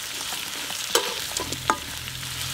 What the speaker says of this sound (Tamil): வெங்காயம் நல்லா கொஞ்சம் நேரம் வதங்கட்டும்.